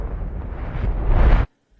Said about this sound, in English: Reverse explosion, and for the big guy here we also have another reverse explosion